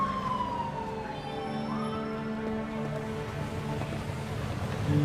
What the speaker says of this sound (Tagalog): Nakarinig lang ng sirena ng pulis.